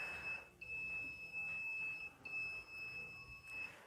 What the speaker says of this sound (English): Here we can see that our MQ6 gas sensor is being subjected to smoke, and it will buzz, start beeping anytime.